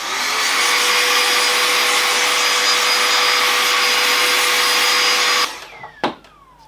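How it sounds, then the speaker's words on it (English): A Dust Blaster compressed-air duster blasts a steady, loud hissing stream over computer parts for several seconds, then cuts off, followed by a couple of faint clicks and handling noises. "if you can get one of these, got this one off Amazon, Dust Blaster"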